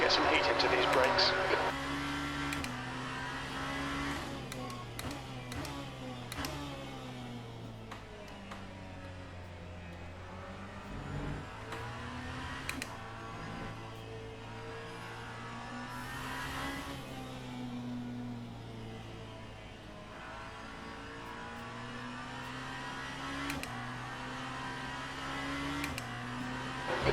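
A Genesis hypercar engine drones steadily as the car runs laps in the Le Mans Ultimate racing game, with continuous engine harmonics shifting pitch through gear changes, under ongoing commentary from a man.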